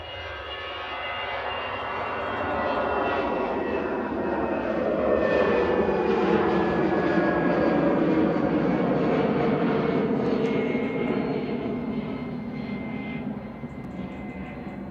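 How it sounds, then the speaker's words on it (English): A Brussels Airlines jet departing Manchester Airport roars steadily, its broad engine rumble swelling to a sustained peak mid-way and easing slightly toward the end, with a faint whine running above the noise. "Brussels Airlines departing here to Brussels OOSSY with flight 2184."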